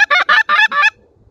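Five quick honking blasts from a goose call, loud and close, each a short nasal burst, followed by near silence.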